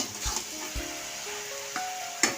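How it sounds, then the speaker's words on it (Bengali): Fish-head and cabbage curry is stirred in a pan over a steady frying sizzle, with a few soft scraping thumps of the spoon against the pan. "একটু নাড়িয়ে দেবো।"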